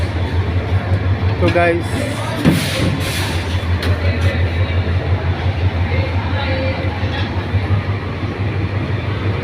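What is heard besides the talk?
Teesta Express train leaving from platform 4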